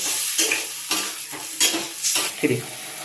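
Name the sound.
fish curry being cooked and stirred until water reduces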